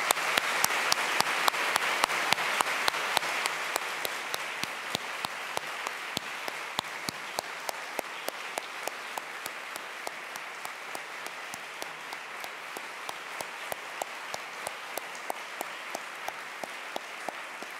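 An audience applauds to welcome new faculty at a fall opening convocation, a full, sustained round of many hands clapping that stays strong throughout, with crisp individual claps standing out near the microphone.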